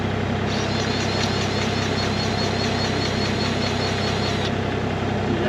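A Kubota KX040-4 excavator's diesel engine runs steadily at idle with the hydraulics locked out, a constant close rumble with a faint rhythmic knock and no speech over it.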